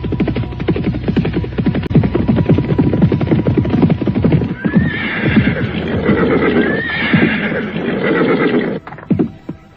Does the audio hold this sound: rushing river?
no